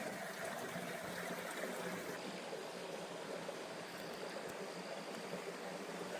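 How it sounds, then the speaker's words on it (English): Little brook flowing near a woodland cabin, a steady, soft broadband rush and trickle of water that holds even throughout with no voices. "And there's the little brook."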